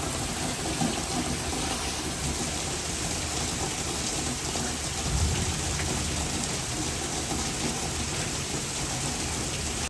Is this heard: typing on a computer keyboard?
no